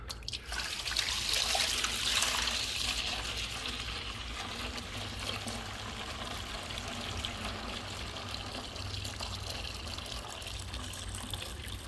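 Water pours steadily out of a carpet cleaning machine's tank, a continuous splashing trickle that runs on evenly for several seconds with no talking.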